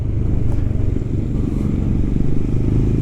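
A Royal Enfield Scram 411 motorcycle on a ride, its engine droning loud and steady up close with wind rush as it runs through the gears.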